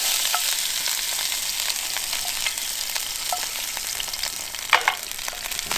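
Morel mushrooms fry in shimmering hot oil with a constant bright hiss and sizzle, near and alone, broken by a few sharper pops and spatters.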